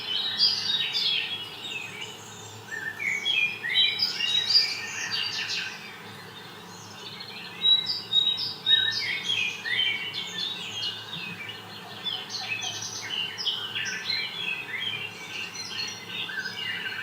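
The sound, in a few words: birds singing in zoo aviary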